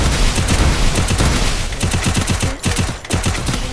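Dense, loud bursts of rapid gunfire from a shooting video game, with rattling volleys running almost continuously and a couple of brief gaps near the end.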